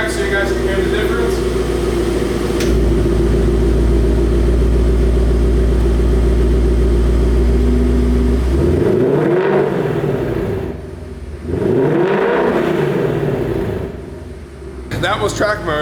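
A 2018-2021 Ford Mustang GT V8 exhaust in track mode, loud and close: a long steady rumble builds, then two sharp revs to about 3,300 RPM rise and fall before settling back to idle, with no talking.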